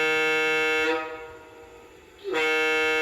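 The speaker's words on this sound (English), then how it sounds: "F21 is an air horn" An air horn from an ESU 5L sound decoder in an LGB Mogul 21181 model steam locomotive blows two loud, sustained tonal blasts separated by a brief quieter gap.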